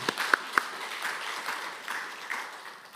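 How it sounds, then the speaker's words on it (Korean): A church congregation at an early-morning prayer meeting gives a short round of applause, a few sharp claps at first, then softer scattered clapping that fades out. "우리 하나님 아버지께 감사의 박수를 올렸으면 좋겠습니다"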